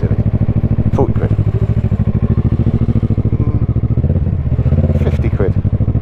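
Motorcycle ridden along a road with a bus lane, a loud close engine thrum pulsing steadily beneath someone talking throughout.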